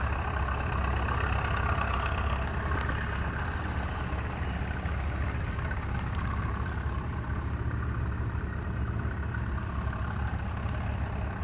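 A hit-and-miss gas engine on a small Quick Mix cement mixer at an antique gas engine show runs steadily nearby, a continuous low chugging rumble with no talking over it.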